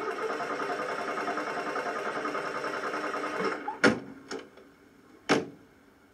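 A family car's engine hums steadily in a forest, then falters and cuts out, followed by a few sharp knocks and clunks as it breaks down, leaving near silence.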